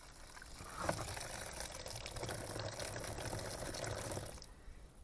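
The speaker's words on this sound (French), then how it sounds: "Je vais remettre de l'eau dans le bac jaune." Water pours steadily into a yellow plastic tray for soaking cucumber seeds, a soft continuous trickle and splash that runs for about four seconds before stopping.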